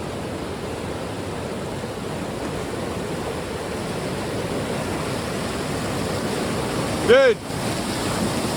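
Monsoon rainwater in Arizona rushing fast in a steady broadband roar, loud and close, with a brief voice and a short whistle-like sound near the end.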